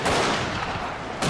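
Massed troops firing muskets in Shogun 2 Total War, heard as a dense, loud crackle of gunfire that fades slightly before a fresh burst at the end.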